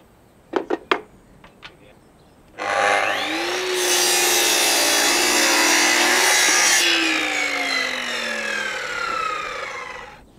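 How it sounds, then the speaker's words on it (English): A power saw cuts a scrap piece of timber at a 5-degree angle for a pergola beam, with a few light knocks first and then one loud, steady cut lasting several seconds that winds down at the end. "cut a scrap piece of timber, 5 degrees"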